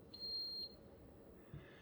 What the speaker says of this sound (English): Okay, so it just started beeping at us.